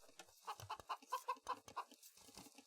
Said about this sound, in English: the chickens constantly making noise